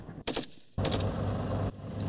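Military gunfire from a motorized rifle platoon's live-fire exercise against infantry and armored vehicle targets: a short burst, then a longer sustained rattle of shots, then a brief final burst, all fairly loud.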